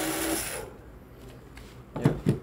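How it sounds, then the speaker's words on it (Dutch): A cordless drill on a workbench whirs loudly for about half a second, then goes quiet, followed by two short, sharp motor bursts close to the microphone. "ik heb hier mijn cordless oefendraaiers"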